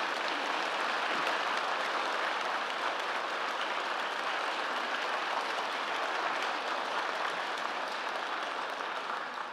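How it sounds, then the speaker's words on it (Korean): A large audience at an education awards ceremony claps in a continuous, even roar of applause that holds steady throughout without any talk over it. "우리 네 분께 다시 존경과 감사의 마음으로 큰 박수 한번"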